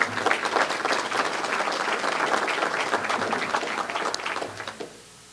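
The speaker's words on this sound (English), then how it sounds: "That's the applause line." Sustained audience applause fills a hall during a speech on the regional economy, a dense steady wash of clapping that tapers off at the end.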